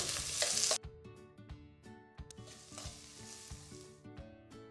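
Sliced large onion and green chillies sizzle in a hot pan for a Mysore masala dosa filling. A loud burst of frying opens, then gentler sizzling follows with repeated close spatula taps and scrapes.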